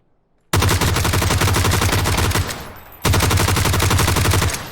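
MG3 machine gun in PUBG firing in two long, rapid, very loud automatic bursts, close and harsh, separated by a short pause, with no voices.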